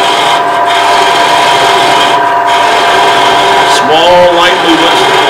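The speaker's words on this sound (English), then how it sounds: "I'm switching to a shallow fluted gouge, which will allow me to get in much closer" A shallow fluted gouge cuts wood on a spinning lathe near a jam chuck, making a continuous close rasping scrape, with a brief tonal squeal near the end.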